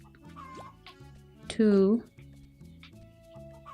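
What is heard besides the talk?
chickens clucking in Gleaner Heights video game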